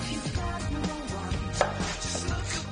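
Raw summer salad vegetables are chopped finely into shreds with a Vietnamese knife on a board, giving rapid, steady, close knocks with music playing underneath.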